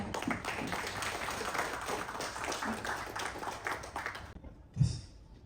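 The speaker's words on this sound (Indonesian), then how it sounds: "Saya boleh minta tepuk tangan teman-teman sekalian." An audience at a national work meeting of a car community claps in a steady, moderately loud wash of many hands, which stops abruptly near the end, leaving a single thump and near quiet.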